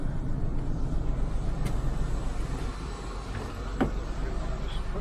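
A Ford Fairmont (AU Falcon) engine idling roughly with a cylinder missing, a low, steady rumble heard up close with a few faint clicks.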